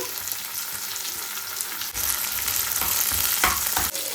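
Urad dal fries steadily in oil in a pan for a chutney of drumstick leaves, a continuous close hiss with occasional stirring scrapes and no voices.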